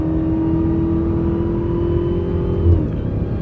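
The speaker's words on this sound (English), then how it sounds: "let me know if y'all can hear the intake" Dodge Hellcat with a loud, steady engine drone and audible intake whine, the note shifting and dipping near the end as the car downshifts and revs; heard from inside the cabin, no talk.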